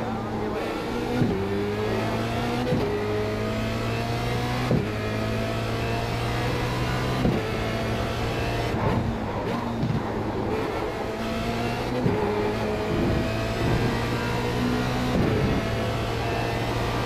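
Formula Renault 2.0 race car engine in the iRacing sim at Montreal's Circuit Gilles Villeneuve, a loud, steady high-pitched whine climbing through gears with sharp shift breaks, under intermittent talk.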